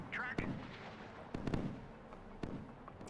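Battleship USS New Jersey firing a missile spread in the naval combat game Sea Power, heard as several sharp cracking launch bursts spaced through a noisy rumbling background, with a voice talking underneath.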